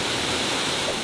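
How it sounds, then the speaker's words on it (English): A 40-foot, single-tier cascade near Dalton, Massachusetts pours in a steady, dense broadband roar that fills the whole second with no pauses, close and constant with no voices over it. "Waterfall Falls is a 40-foot tall, one-tier cascade waterfall"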